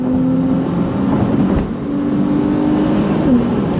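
A 2017 Porsche 911 engine hums steadily from inside the cabin while accelerating, a low continuous drone with a slight rise in pitch, loud and close with road noise underneath.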